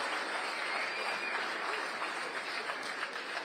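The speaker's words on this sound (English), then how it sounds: "Huge roar from the crowd." Crowd at a professional pool tournament in Saint Louis roaring and applauding: steady, dense clapping mixed with cheering, fairly loud and continuous throughout, with no commentary over it.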